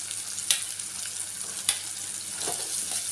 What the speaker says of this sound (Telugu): వేసుకొని కలుపుకుంటూ 2 నిమిషాల పాటు వేగనియాలి